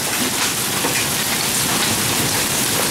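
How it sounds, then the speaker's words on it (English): Hailstones the size of golf balls pelt a tractor in a heavy storm, a dense, continuous hiss and patter of impacts with no pauses. "look at the blobs of hail"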